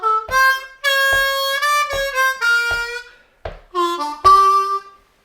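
Blues harmonica playing a lick with draw bends, a series of bright, reedy phrased notes in short bursts with brief gaps, close and alone.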